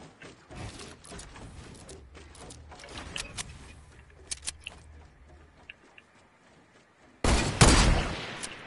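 Gunfire from the Fortnite video game crackles in scattered bursts, with sharp shots and rattling mechanisms, followed by a loud sustained volley near the end.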